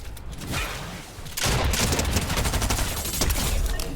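Rapid bursts of gunfire from a shooter video game, loud and continuous, quieter scattered shots first, then a dense sustained fusillade with overlapping reports.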